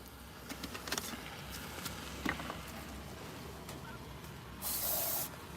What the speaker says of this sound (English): This shit is loud. That aerosol.